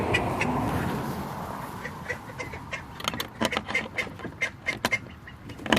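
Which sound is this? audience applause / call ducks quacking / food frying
call ducks quacking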